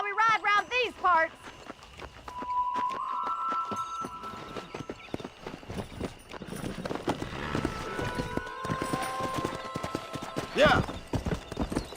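A horse's hooves clip-clop in Red Dead Redemption, a busy patter of steps close by that runs nearly throughout, mixed with game music tones and a brief spoken word.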